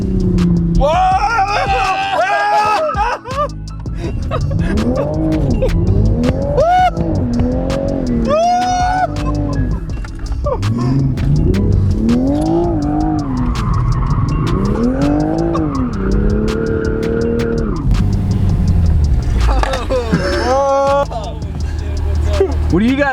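Tires squeal loudly and repeatedly as cars drift nearby, engines revving and rising and falling in pitch, with excited shouting in the background.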